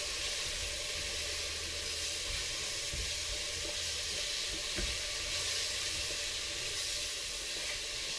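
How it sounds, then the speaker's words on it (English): Beef curry frying in a pan for kari daging gives off a steady, even sizzle that runs the whole time with no talk over it, with a faint low rumble underneath and a single soft knock midway. "I just let it mix it up and let it fry for a bit"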